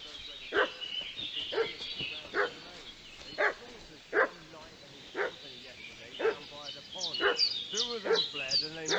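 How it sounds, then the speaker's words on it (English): A dog in the video game Kingdom Come: Deliverance 2 barks repeatedly in short, sharp, evenly spaced yaps at middling distance over several seconds, with a few higher yips toward the end and faint talk in the background. "What's that dog making such a fuss about?"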